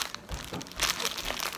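Packaging crinkles and rustles close up as a package is opened, a short burst of crackling plastic handling with no talking.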